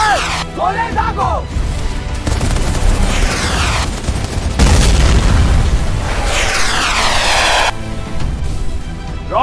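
Animated battle between ants firing cannon shells, with repeated loud booms and blasts layered over busy swooping effects and music, filling the scene without pause.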